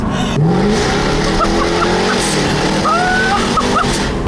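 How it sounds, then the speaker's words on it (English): A loud 2015 Jaguar F-Type R Coupe engine revs and roars through its exhaust as it accelerates, with sharp tire squeals chirping from wheel spin and faint voices underneath. "you can hear that exhaust"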